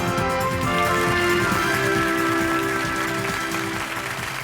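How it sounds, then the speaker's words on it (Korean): Applause greets Peter Underwood as he is welcomed to the stage at the Tech Plus Forum 2012, a steady wash of clapping from the audience under prominent tonal music. "큰 박수로 맞아주시기 바랍니다"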